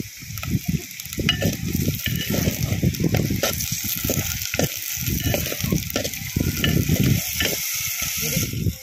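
Chopped onion and tomato fry in a handi pot for a village-style chicken dish, a continuous sizzle broken by rhythmic scraping strokes of a spatula, close and steady with no talking.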